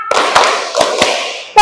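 Crisp hand claps echo through a hall in a counted clapping game at an Indonesian elementary school workshop, four evenly spaced loud claps with a fifth cut off at the end.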